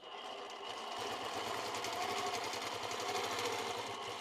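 A quilting sewing machine sews stitch in the ditch along a ruler, a steady, moderately quiet rapid whirring hum that continues without pause.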